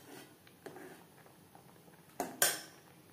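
A utensil clinks against a pot while foam is skimmed off boiling lentil dal, two sharp metallic taps near the end over a soft simmering background, close and fairly quiet.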